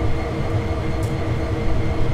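A freight train in Train Sim World 2 rolls along the track with a loud, continuous low rumble and a steady mechanical drone, with no voices.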